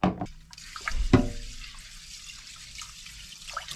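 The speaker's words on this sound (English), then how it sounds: "I got 2 cups of rice right here. And we just gotta wash it." Two cups of rice are rinsed under a running tap, with a short burst of splashing water and brief clatter, then a faint steady trickle in a quiet kitchen.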